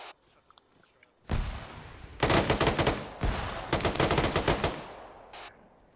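Bursts of mounted machine gun fire at a sandbagged fortified position in the military shooter ArmA 3, two long loud rapid volleys with scattered shots around them, close and harsh, with no talk.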